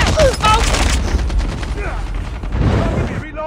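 A mobile shooter, Call of Duty Mobile, with sharp loud shots crackling in quick succession amid a busy battle mix, with voices speaking over the firing.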